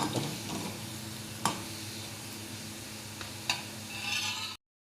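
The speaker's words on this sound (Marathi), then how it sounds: "मस्तपैकी असं तळून घेत जाऊ आणि पाकामध्ये सोडवतो" Gulab jamun frying in oil over a low flame, a steady gentle sizzle with a couple of soft clinks from stirring, alone and fairly close, ending abruptly.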